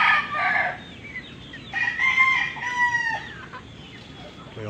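Backyard white chickens clucking, with a rooster crowing loudly nearby over soft rural background noise; no talk.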